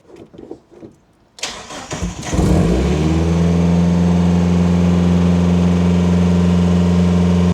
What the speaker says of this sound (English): the engine started with an idle hesitation issue